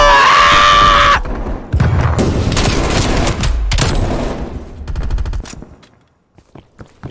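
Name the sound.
gunfire in a video game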